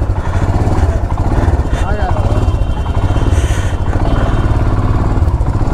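A motorcycle rides along a road from Muzaffarpur on a long highway trip in Bihar, its engine thrumming loudly and continuously close by with wind noise.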